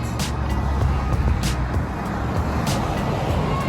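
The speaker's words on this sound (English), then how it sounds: "But this is a very busy street." Busy street traffic heard from the roadside on foot: a loud, steady roar of cars and other vehicles, with a few vehicles swishing past up close.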